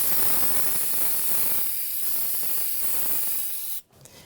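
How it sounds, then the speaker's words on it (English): Brake cleaner sprayed from an aerosol can onto the rear brake bleeder of a 1997-2006 Jeep Wrangler, a loud close continuous hiss lasting almost four seconds before cutting off abruptly. "So now I'm going to clean it off with some brake clean."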